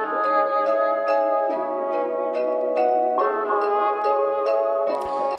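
A vintage-style synth melody with vinyl emulation and a light chorus blend plays alone, steady sustained chords with regular plucked note onsets about twice per second, fairly loud and continuous throughout.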